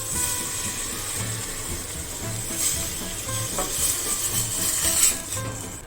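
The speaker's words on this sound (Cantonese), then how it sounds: "炒勻咗之後，我哋就落牛高湯啦" Beef stock is poured into a hot pan of fried onions and flour for onion soup, giving a steady close sizzle and hiss with a few soft pan scrapes and no talk.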